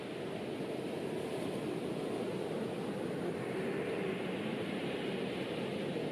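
Ocean waves wash steadily in the distance as a soft, continuous rushing roar with gentle swells, faint and unbroken, with no voices.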